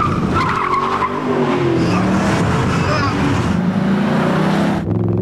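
A Ford Mustang racing a Dodge Charger in the Bullitt movie car chase, with a loud roaring engine, squealing skidding tires and revving swells, dense and continuous, a voice faintly mixed in.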